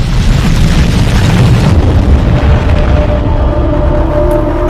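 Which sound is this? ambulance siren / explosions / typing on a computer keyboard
explosions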